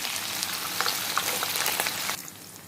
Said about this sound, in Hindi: तो सबसे पहले हमें इसमें फली डालकर फ्राई कर लेना है।